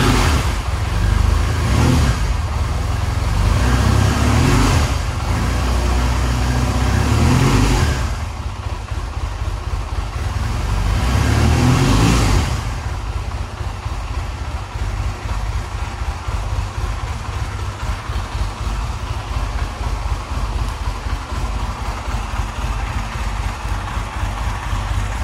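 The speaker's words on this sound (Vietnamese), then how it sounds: "bây giờ thì mình thử nổ máy chiếc xe này để cho anh em nghe thử." A 2009 Honda Rebel 250 motorcycle, Japanese-built, starts and runs close by, with loud rumbling revs in several bursts during the first half, then settles into a steady, slightly rough idle.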